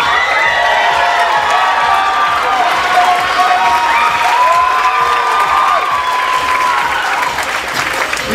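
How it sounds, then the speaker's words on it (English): Applause and cheering from the audience at a Philippine Culture Night stage show, a dense and steady wash of clapping and shouts that holds loud for the whole stretch with no talk over it. "Please give a big round of applause for Isco and Mona."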